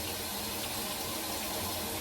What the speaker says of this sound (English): I'm losing water because I forgot to cover the nozzle